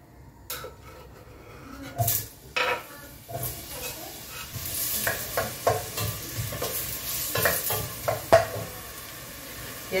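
Chopped onion dropped into hot oil in a cooking pot, hissing and sizzling with scattered stirring clatter and pot knocks, fairly close and continuous throughout, with no one talking.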